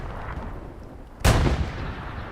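A single heavy artillery blast in Hell Let Loose on the Purple Heart Lane map, one sudden loud boom over a low rumbling battlefield backdrop, trailing off into a lingering roar.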